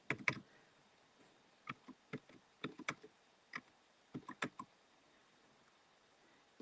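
A computer keyboard clicks in scattered bursts of quick, light keystrokes with pauses between them, close and fairly quiet, no voices.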